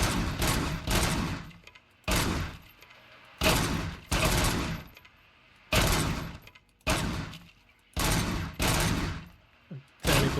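Bursts of gunfire from a RoboCop video game come in loud, regular volleys of roughly a second each, separated by short silent gaps and repeating about eight times.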